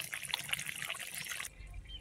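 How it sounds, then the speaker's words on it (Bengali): Running water trickles and splashes as vegetables are washed for a Bengali fish curry; a steady close stream stops abruptly near the end, leaving a low rumble. "ততক্ষণে আমি এই তরকারিটা ধুয়ে নিই"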